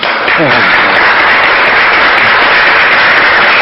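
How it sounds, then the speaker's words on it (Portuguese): A crowd gives loud, dense applause that holds steady throughout, with a voice briefly audible at the start. "Uma salva de palmas para o Brasil."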